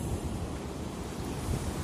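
Strong storm waves crash and roll onto a beach on the Turkish coast in winter, a steady dense roar of surf with wind noise and no speech.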